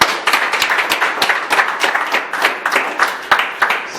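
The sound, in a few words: applause from audience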